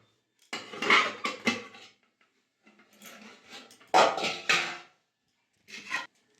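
A lid comes off a cake pan set inside a kadai with a few close metallic clanks and scrapes in two short clusters, then a final light clink.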